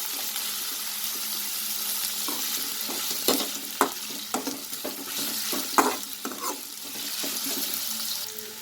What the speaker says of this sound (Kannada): ಸ್ವಲ್ಪ ಫ್ರೈ ಒಂದಾದರೆ ಸಾಕು, ಮೀಡಿಯಮಾಗಿ ಫ್ರೈ ಮಾಡ್ಕೊಳ್ಳೋಣ ಚೆನ್ನಾಗಿ